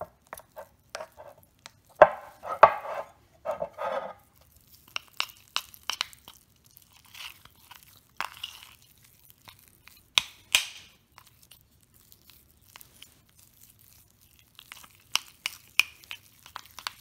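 Sporadic scraping, clinking and crunching as ingredients for four-ingredient keto chocolate balls are mixed in a bowl, with short irregular bursts separated by quiet gaps.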